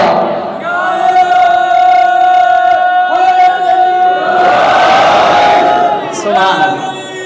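A large mourning congregation chants religious slogans in unison, loud and close, with long sustained tones from many voices rising and swelling together.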